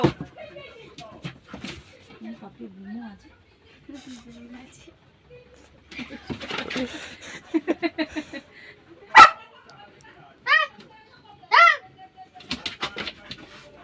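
A dog in a rainy home setting lets out a quick series of sharp barks and yips, some close and loud, interspersed with quieter whimpers and a person's voice.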